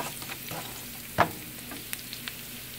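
Garlic tadka for daal sizzles in hot oil with a soft, steady fry. One sharper crackle or stir stands out partway through, followed by a few faint ticks, and no one speaks.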